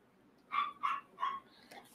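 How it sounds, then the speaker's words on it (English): A small, angry dog barks three times in quick succession from another room, muffled and moderately distant, with a faint fourth yip trailing at the end. "We've got an angry little dog in the other room."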